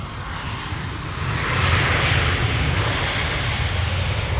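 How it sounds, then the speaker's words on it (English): A United Boeing 787-10 Dreamliner jet airliner departs Minneapolis–St. Paul airport, its broad, steady engine roar with deep low rumble swelling louder after the first second and holding strong, no voices. "We are expecting United to depart with the 787-10 Dreamliner"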